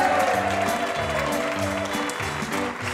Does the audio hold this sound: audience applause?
yes